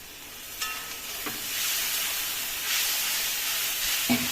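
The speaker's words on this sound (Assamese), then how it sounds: "পানী দি পেলাই ভালকৈ লৰাই মছলাখিনি অকণমান ভাজ খাব দিম।" Fish masala spice frying with a splash of water in a pan gives a steady steam hiss and sizzle, with a few sharp stirring clinks near the start and a louder clink at the end.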